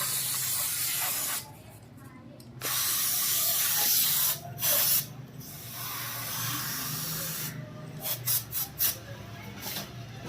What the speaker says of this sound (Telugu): దీనికైతే స్ప్రే చేస్తాను. ఇప్పుడు దీన్ని స్ప్రే చేద్దాం.